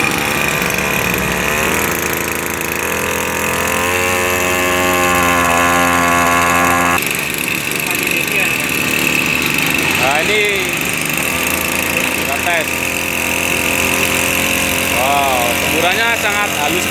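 A Motoyama Mes Gold agricultural sprayer's small engine runs at a steady buzzing idle throughout, with someone talking over it at close range.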